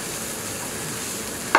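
Bird's eye chili and garlic fry gently in a pan over moderate heat, a steady close sizzle holding for the whole stretch, with a brief clatter at the very end.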